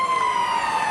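A stadium siren at Wollongong sounds to end the first half of a rugby league match against St George Dragons, a steady sustained electronic tone held loud and unbroken throughout, with crowd noise beneath and no talk.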